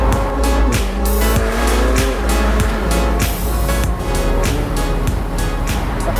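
A 2020 McLaren 720S Spider drives hard, its engine loud and close as it revs through repeated gear changes with rising and dropping pitch, plus wind and road noise.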